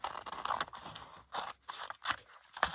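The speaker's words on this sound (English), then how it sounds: "I'm gonna just cut away so it's flat" Scissors snip through paper while trimming a handmade card envelope, several crisp cuts in uneven bursts, close and clear with no talking.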